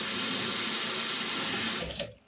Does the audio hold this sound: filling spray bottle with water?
yes